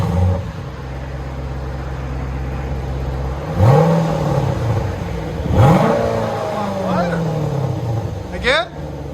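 A Jeep Grand Cherokee SRT 6.4L HEMI V8 with exhaust valves closed idles with a low rumble, then revs sharply twice, with a further quick blip near the end; voices talk over it.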